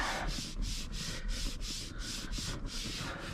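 A brush or microfiber towel scrubs along the stitching of a car steering wheel, giving steady, close rubbing strokes in a repeated back-and-forth rhythm with no one talking.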